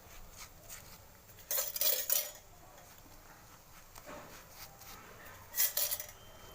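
A tawa is set down and oil is spread on it for chapati, making two short bursts of bright metallic clatter and scraping against a quiet kitchen background.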